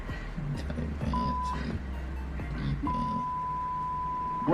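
Music plays with muted vocals, interrupted twice by a steady electronic tone, one short and one longer, like censor beeps.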